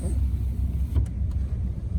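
A car engine warming up gives a low, steady idling rumble nearby. Brief voices cut in over the hum.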